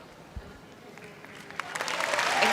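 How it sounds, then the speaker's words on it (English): A crowd applauds at a Samoa v Fiji netball match, starting thin and swelling steadily to loud clapping over a few seconds, with faint voices mixed in. "great applause from the crowd as she walks off."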